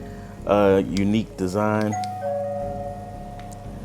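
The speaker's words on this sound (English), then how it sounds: "that's the doorbell feature" A $99 smart lock with fingerprint reader and keypad gives a sustained electronic doorbell chime tone, sounding after someone speaks briefly, moderately loud and close.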